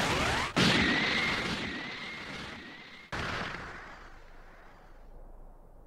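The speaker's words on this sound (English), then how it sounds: "Special beam cannon!" Special Beam Cannon blast from the Dragon Ball Sparking Zero video game, a sharp crack followed by a long roaring, whining energy beam that fades, then a second loud impact boom decaying into rumble.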